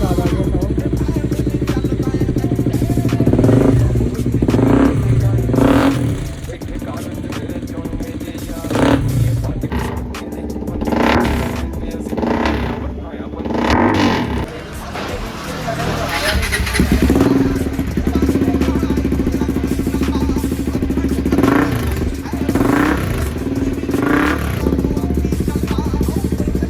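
Bajaj NS400Z motorcycle with a de-catted exhaust, loud deep burbling idle broken by several sharp throttle blips and revs, heard up close with some voices in the background.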